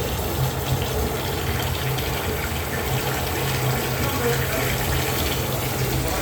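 Water drains on its own through an automatic drain system, a steady broadband rush and gurgle that runs continuously at moderate level, with faint voices in the background.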